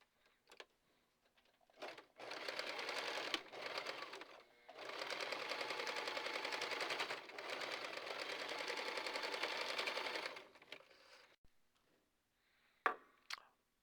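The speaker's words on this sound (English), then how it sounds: "you can now run a line of stitching across that seam to reinforce it" A sewing machine runs stitches across a serged seam on a fabric wine bag, two long close bursts of rapid whirring with brief stops and small clicks of handling between them.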